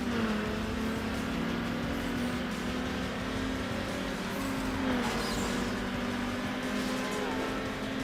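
A Hyundai Coupe in the Need for Speed Underground video game holds a steady engine drone with mild pitch shifts, continuous and fairly loud, without speech.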